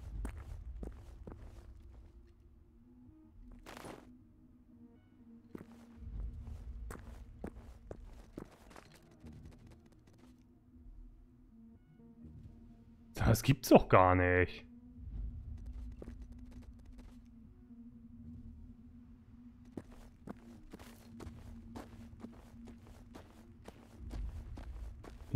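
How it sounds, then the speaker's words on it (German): A creature's running footsteps in the video game Generation Zero, soft repeated steps scattered across a long stretch of quiet outdoor ambience, with a louder rattling burst midway and someone speaking briefly. "irgendwo habe ich aber auch eben was rennen gehört"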